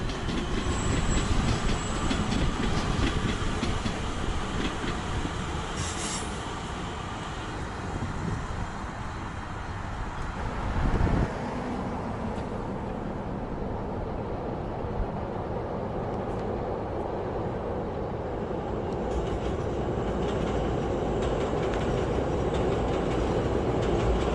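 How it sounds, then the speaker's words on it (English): A passenger train runs through 18th Street Station in Chicago, giving a loud continuous rumble and rattle of wheels over rails with brief squeals, steady for the whole stretch. "One more passenger train goes through 18th Street Station"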